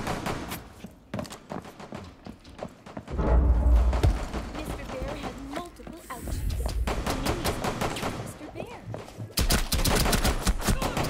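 Video game gunfire in a chaotic teddy-themed shooter, with rapid bursts of shots and mechanical clatter running through much of the stretch, loud and close, while a player talks excitedly over it.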